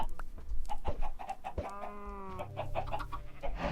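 Minecraft chickens and chicks cluck and chirp in short repeated bursts, with a brief rising squawk in the middle, over a low steady background hum.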